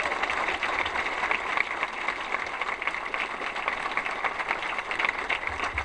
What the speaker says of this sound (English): Can you give Billy a round of applause